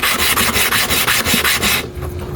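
A clipper blade rasps back and forth on a sharpening stone in steady, loud rubbing strokes about every quarter second, then the scraping eases and fades near the end.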